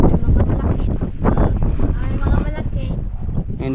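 Loud wind buffeting the microphone in a continuous roar, with people talking underneath it.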